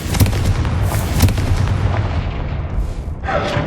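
Repeated blasting-spell explosions in Hogwarts Legacy, a dense run of loud booms and crackling bursts with several sharp peaks, fading briefly before a final rushing burst.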